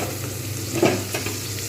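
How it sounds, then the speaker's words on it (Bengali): Boiled potatoes fry in oil in a pan for sweet-and-sour paneer. A brief, steady sizzle plays close up with a single stirring scrape in the middle, and nobody speaks. "বয়েল করা আলুটা দিয়ে দেবো এটাকে কিন্তু একটু ঢাকনা দিয়ে দেবো যাতে কাঁচা গন্ধটা চলে যায় এবং সুন্দরভাবে ভাজা হয়"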